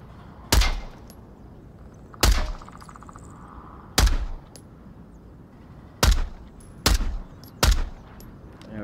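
Pistol shots fired at a shooting range in a VR game, six sharp, loud reports spaced a second or two apart, the last few closer together, with faint clicks between.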